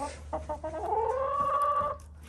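A chicken clucks in a backyard coop, a short drawn-out call rising and holding close by, over a faint background hum.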